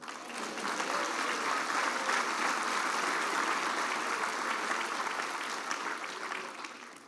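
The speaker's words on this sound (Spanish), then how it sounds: "¿Cuánto da un aplauso al Señor?" A Spanish-speaking church congregation gives sustained applause to the Lord, a dense, even crowd clapping that holds steady for several seconds before thinning out near the end, with no one speaking.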